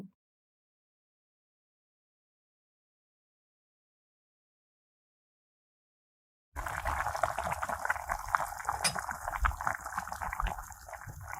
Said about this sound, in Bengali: এখন ঢেকে দিয়ে কিছুক্ষণ রান্না করে পানিটা পুরোপুরি শুকিয়ে নিব।